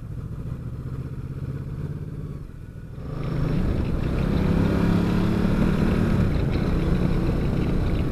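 Riding a Ducati Multistrada 950, a sporty adventure motorcycle: a low engine hum with wind rush swells louder about three seconds in as the bike accelerates, then holds as a steady close drone.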